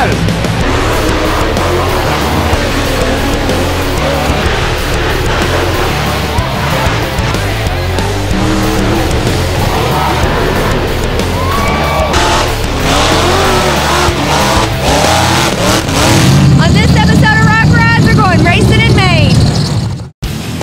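Off-road vehicles rev their engines loudly at a mountain mud run, a dense continuous roar with rising revs and tire noise that builds toward the end and then cuts off abruptly, while someone talks over it.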